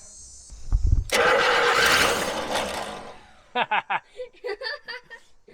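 A junkyard Jeep Gladiator's engine, primed by squirting fuel, cranks and catches with a loud rough burst lasting about two seconds before dying out, followed by people talking and laughing.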